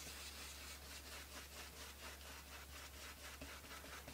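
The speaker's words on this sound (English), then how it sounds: "now we're going to dry rub with whispering turquoise" A dome brush dry rubbing turquoise paint over a surface in tole and decorative painting, giving a steady, close scratchy rubbing with repeated back-and-forth strokes and no talk.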